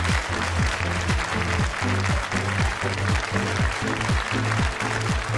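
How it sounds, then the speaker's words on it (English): A studio audience at a televised BBC EU referendum debate claps loudly and evenly, a steady wash of applause over background music with a repeating low pulse. "Do give yourselves a big round of applause."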